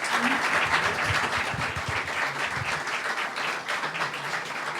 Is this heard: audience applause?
yes